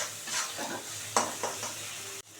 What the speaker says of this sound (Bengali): এটাকে খুব ভালো করে কষাবো